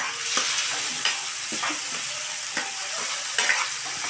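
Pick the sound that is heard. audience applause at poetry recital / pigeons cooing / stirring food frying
stirring food frying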